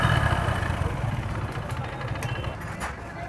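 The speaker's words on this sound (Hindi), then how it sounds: "इसके अंदर से आवाज़ भी आ रही है। इसके रिंग पिस्टन और क्रेन की आवाज़ आ रही है" A Hero Deluxe motorcycle engine with worn piston rings runs at idle, a close, steady low chugging with light mechanical clatter, partly under someone talking.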